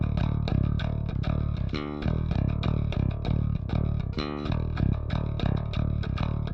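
Dry DI bass guitar from a rock mix, unprocessed and played alone in a steady driving rhythm of repeated plucked notes with a couple of brief fills, clean and even in level throughout.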